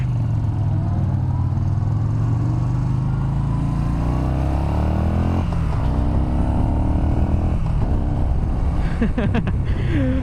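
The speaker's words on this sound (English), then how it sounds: "I love the sound of this engine" A 2017 Yamaha Bolt R-Spec motorcycle engine idles and revs steadily with a deep rumbling purr, close by, with some wind buffeting and faint rattles near the end.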